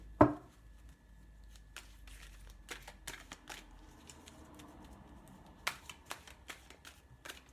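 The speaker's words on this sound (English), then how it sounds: "let's give them a good shuffle, shall we?" Soft riffling and tapping of tarot cards being shuffled, a quick flurry of light patters and snaps, fairly quiet and close, with no voices.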